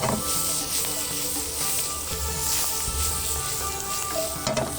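Onions sizzle and char in a hot pan, a loud, continuous frying hiss with occasional crackles and stirring scrapes, close up and with no voices.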